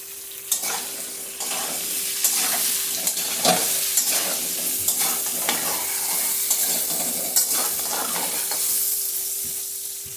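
Chopped squash frying with turmeric in oil in a pan on a gas stove, a steady hiss and sizzle broken by frequent scraping stirs of a spatula, close and continuous without speech.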